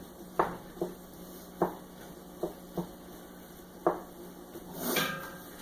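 A spoon stirring chopped green peppers and onion with browned meat and fat in a chili pot, sounding as a series of close, sharp clacks and scrapes against the pot at irregular intervals, ending in a brief sizzling swell.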